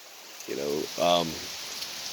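Heavy rain with big drops pouring down in South Carolina, a steady, even hiss that fills the whole clip, with a voice briefly speaking over it.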